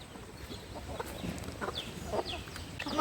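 Chickens cluck softly in a mountain village yard, with scattered short calls over a steady outdoor background.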